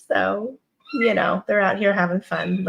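Foster kitten meowing in short bursts at the start and again later, close by, interleaved with and partly under a person speaking at home.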